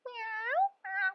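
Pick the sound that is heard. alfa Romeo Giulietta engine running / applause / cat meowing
cat meowing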